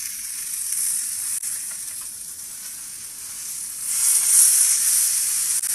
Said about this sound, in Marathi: आता मोठी चिलापी पण पलटी मारून घेऊयात